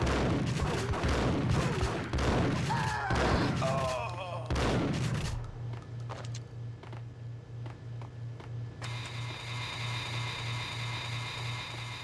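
Gunfire in the PS2 video game Max Payne, with a rapid burst of loud, overlapping shots over game sounds, then a steady pulsing hum and electronic tone after the shooting stops.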